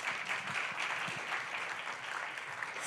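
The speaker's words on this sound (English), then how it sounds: "Let's give another round of applause for Luke Zhang." Steady applause from a seated audience at a startup demo day, with dense, even clapping filling the room at moderate volume and not swelling or dying away.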